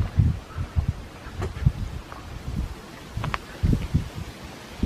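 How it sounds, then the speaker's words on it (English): Gusty wind rustles leaves and buffets the microphone in uneven low bursts, steady throughout with no voices. "A little bit windy today."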